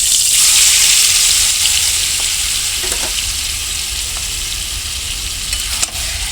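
Marinated goat meat fries in a kadai of oil already used for frying potatoes, giving a loud, steady, close sizzle that runs unbroken throughout, with no talking.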